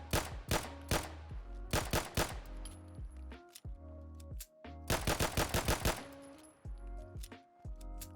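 A custom pistol from a Fallout 4 mod fires in quick bursts of sharp, loud gunshots, clustered in rapid runs with short pauses between, alongside metallic handling clicks.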